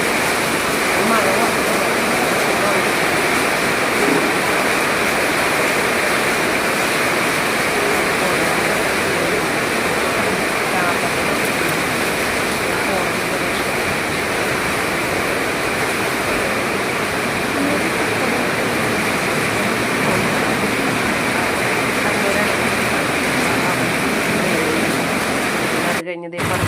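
Heavy rain pours down outdoors on a trip to Peechi in Thrissur, making a dense, loud, unbroken roaring hiss that runs steadily throughout with no clear voices.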